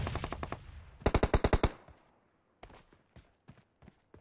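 Automatic gunfire rattles in a multiplayer shooter game, two rapid, loud bursts close together, then a pause before scattered single shots and footstep-like thuds that come from farther off.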